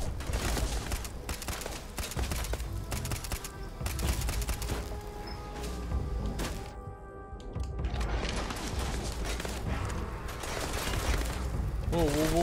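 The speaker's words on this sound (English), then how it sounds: "where are these shots coming from?" Gunshots in the space game Starfield: dense bursts of rapid gunfire crackle almost throughout, mixed with mechanical clatter and game effects, with a short quieter gap midway.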